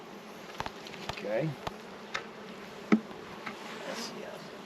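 Honey bees buzz steadily around an open resource hive, a close, continuous hum broken by occasional sharp knocks and a brief spoken word.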